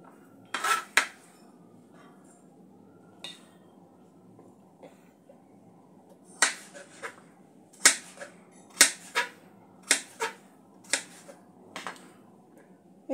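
A knife chopping papaya into small pieces on a board, crisp separate knocks, a few early then a steady run of about eight cuts, close and clear against a quiet room.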